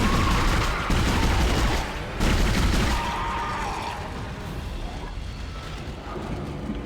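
Gunfire from the video game Dead Space, a dense burst of loud booming shots in the first few seconds, then a fading rumble and echoing tail.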